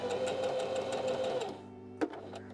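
A sewing machine stitching a hem, its rapid steady mechanical whirr running close and continuous before slowing and stopping, followed by a single sharp click.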